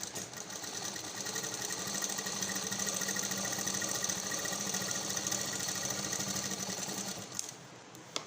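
A sewing machine stitches a blouse in one long steady whirring run with a fast mechanical patter, close and clear, stopping near the end.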